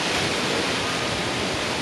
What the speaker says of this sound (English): it is indeed quite breezy today